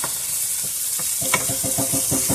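Half a medium onion and two cloves of garlic sizzle in a pot, a steady bright hiss with repeated stirring scrapes growing more frequent toward the end, close and alone without talk.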